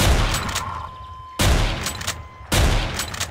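Video game M9K assault rifle fire comes in three sharp, loud bursts of rapid shots spaced about a second apart, each followed by a short decaying tail, with no voices.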